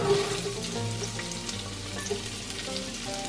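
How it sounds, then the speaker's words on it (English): Chopped onion, garlic and ginger sweat in a pot after browned short rib for Korean galbi-jjim, giving a steady, moderate sizzle with light crackles throughout. "we throw in the onion, garlic, and ginger. Yeah. We're gonna sweat it out a little."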